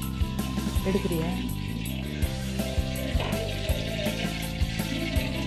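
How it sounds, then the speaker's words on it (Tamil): Oil sizzles and crackles steadily while battered egg pieces fry for egg manchurian, with faint clinks of utensils. "அடுத்தது நம்ம எண்ணெய் வச்சு பொரிக்க போகிறோங்க"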